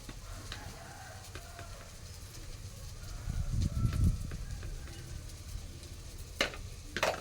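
Onions, tomatoes and green chillies fry in a pan with a low, steady sizzle that swells briefly in the middle, with a few faint clinks near the end.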